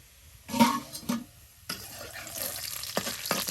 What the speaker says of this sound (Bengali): এই যে এখন হলুদের গুঁড়া মরিচের গুঁড়া হলুদের গুঁড়া দিয়ে আপনার মাছগুলা উলট পালট করে দেওয়া হবে